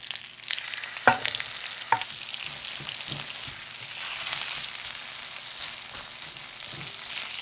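Soft fresh rice cakes fry in oil for tteokbokki, a steady close sizzle with a few sharp knocks and scrapes of a utensil against the pan.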